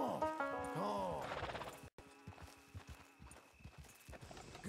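Horse in Red Dead Redemption II, a game-rendered whinny and snort up close at the start, then clip-clopping hooves walking at a steady pace with soft ambient background.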